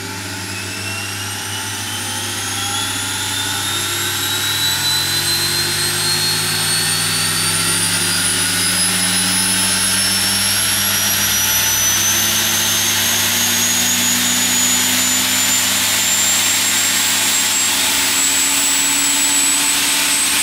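An Agni electric motor runs at about 12 volts and near 900 RPM, giving off a continuous whine whose tones slowly rise in pitch over a steady mechanical drone.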